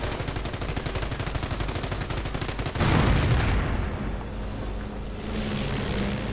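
Heavy machine gun and sniper fire in a World War II strategy game, a rapid, loud stream of automatic shots that breaks into a heavy blast, then continuing battle rumble and vehicle noise, without talking.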